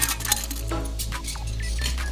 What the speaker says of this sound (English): We dropped all the processors into a beaker